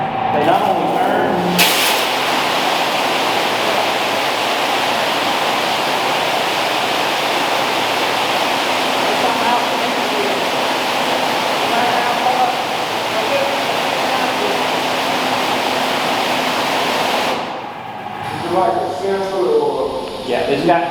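A car wash sprayer blasts water at wheels, a loud, steady hiss of spray that holds for most of the stretch before cutting off, with people talking over the rushing water.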